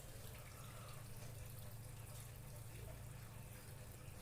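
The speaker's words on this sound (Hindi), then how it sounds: "फिर इसके बाद में डालेंगे पानी" Water is poured into a kalash during a Navratri puja, giving a continuous splashing, trickling rush at moderate level with no break.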